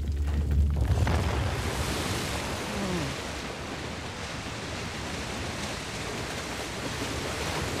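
Rushing water in Uncharted: The Lost Legacy, a broad continuous roar of surf-like noise that starts with a deep rumble and settles into a steady wash, with no voices.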